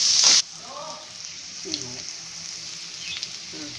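Onions with salt frying in a pan for a spicy crab gravy, a sharp burst of sizzle as they hit the hot oil, then a quieter continuous crackle with occasional stirring clicks and faint voices.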